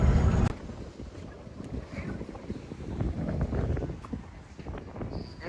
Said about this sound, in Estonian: Et siin on suur tuul, nagu me lootsime.